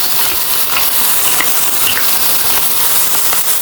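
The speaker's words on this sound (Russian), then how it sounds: "В общем, мясо у нас зашкварчало." Meat sizzles in a hot frying pan, a steady, dense crackling hiss that holds evenly throughout without a break, close and fairly loud.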